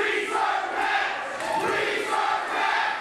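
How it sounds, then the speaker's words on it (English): A wrestling event crowd at a Halloween-themed show cheers and roars, a loud, continuous swell of many voices that rises and falls in waves. "You hear the crowd."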